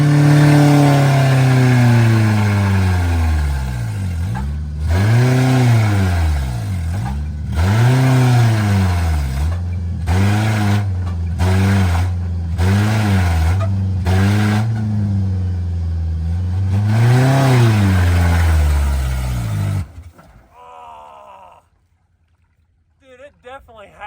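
A vehicle engine with a burning clutch revs repeatedly as it strains for power, loud rising and falling surges close by, then cuts out abruptly near the end, leaving a few quiet noises.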